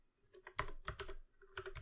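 Quick bursts of keystrokes come from a computer keyboard while game code is typed in Unity, close, uneven clicks with short pauses between groups.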